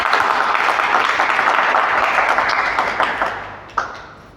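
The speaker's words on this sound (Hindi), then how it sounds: "बजाओ तालियां।" An audience claps together in a hall during a business plan presentation, a loud, dense, steady wash of clapping that holds for several seconds before thinning out near the end.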